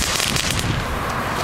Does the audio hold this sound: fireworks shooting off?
yes